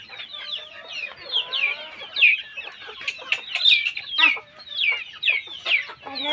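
Native Bengali village chickens on a poultry farm cluck and squawk repeatedly in quick overlapping bursts, close and fairly loud, with a few sharp higher calls and no talking.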